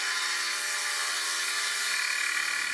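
Hand chisels carve angled wood for a dust collection part, giving a steady, dense scraping and rubbing texture that runs close and continuous for the whole stretch, with no talking.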